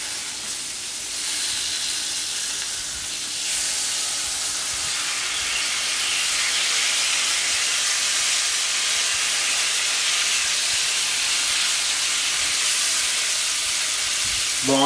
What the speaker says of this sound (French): De l'autre côté de la plancha, on va mettre à rôtir